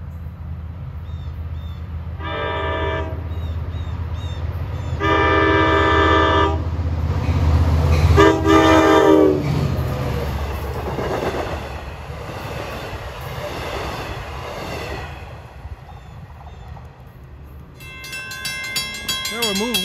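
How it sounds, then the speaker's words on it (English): A Long Island Rail Road train heading from Babylon to Patchogue approaches a grade crossing. It sounds its horn in several long blasts over a steady rumble of wheels, loud and close. "approaching McConnell Avenue at 4:53 is train 78 from Babylon to Patchogue"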